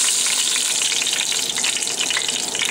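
Carrots, celery and onions fry in beef tallow for a braise, making a loud, dense sizzle and crackle with some stirring movement, close and steady throughout.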